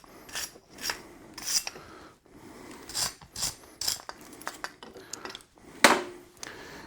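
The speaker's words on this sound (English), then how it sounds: "I'm just going to hit it with the wire brush." Repeated harsh scratchy scrubbing strokes of a wire brush against a 12V car battery terminal on an electric vehicle, close up, in irregular bursts with no talking.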